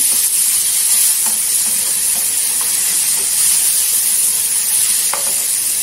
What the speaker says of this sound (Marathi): आणि लिंबाचा अर्धा रस टाकायचा, छान टेस्ट येते.